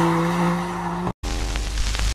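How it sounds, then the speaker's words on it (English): A car drifts down a street with tires squealing in sustained, tonal shrieks over engine noise. A brief silent break splits two loud, close bursts. "Drifting down the street."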